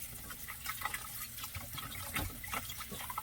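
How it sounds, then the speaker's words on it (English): Chicken wings washed in a bowl of water in a van kitchen: continuous close splashing and sloshing with small irregular drips and swishes, steady and fairly quiet throughout. "So I got my wings in the bowl, and I am going to wash those."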